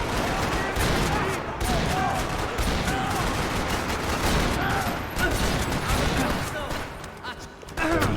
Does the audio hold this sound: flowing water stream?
no